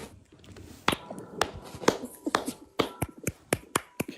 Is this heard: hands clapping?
yes